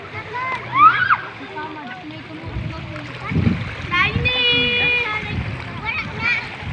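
Sea water splashes and sloshes at the beach shore while children and adults chatter and call out nearby.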